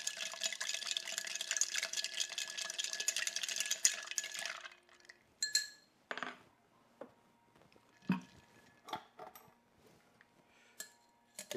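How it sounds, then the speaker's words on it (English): A spiced tequila old fashioned is stirred over ice in a glass: a dense, continuous rattle of ice and liquid gives way to a few sparse, separate clinks and taps. "Now I'll give it 1 final stir to chill."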